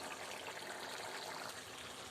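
Anchovy (netholi) peera simmers in a pan as its water cooks off, giving a soft, steady bubbling hiss that stays faint and continuous with no talk.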